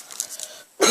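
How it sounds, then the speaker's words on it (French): A single harsh cough from a person with a bad cough bursts out at the very end, loud and abrupt, after a quiet stretch. "j'ai vraiment une grosse toux"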